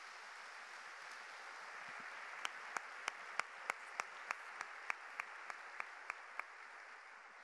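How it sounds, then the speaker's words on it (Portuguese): Soft, distant applause from a church congregation hums along quietly while one nearby pair of hands claps in a clear, even rhythm of crisp single claps. "Vamos aplaudi-lo e glorificá-lo nessa noite."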